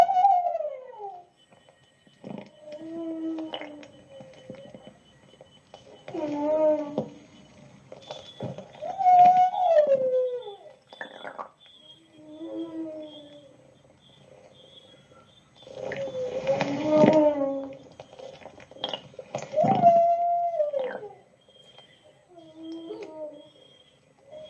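Whale song in the Colombian Pacific, with long moaning and sweeping calls repeated in slow phrases and separated by quiet pauses.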